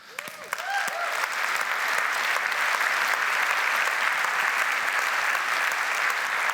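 Audience applause at an annual conference during a business talk, a dense steady clapping from a large crowd that swells in quickly and holds strong, close and full, for several seconds.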